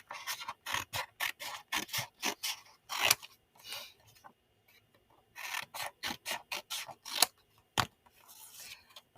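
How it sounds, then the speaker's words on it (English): Scissors snip through paper word cards in repeated quick bursts of short crisp cuts, with pauses between runs, close and fairly quiet with no talking. "And then I'll cut them apart."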